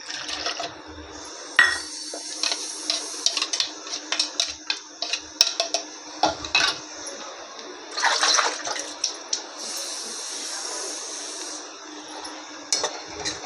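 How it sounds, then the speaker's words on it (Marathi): A pot that held chili water is rinsed and scrubbed at a kitchen sink, with running water, sloshing and metallic clinks and scrapes in uneven bursts, close and moderately loud, with no talking. "हे मिरचीचं पाणी होतं ते मी भांडं धुवून घेते"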